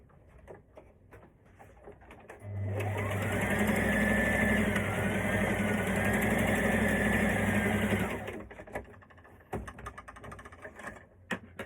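A sewing machine runs steadily for about six seconds, stitching across the elastic casing of a maxi skirt, with a loud, even motor whir that starts and stops abruptly and light handling noises before and after.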